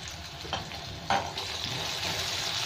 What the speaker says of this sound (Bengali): এটা একটু তেলের মধ্যে নাড়তে থাকবো।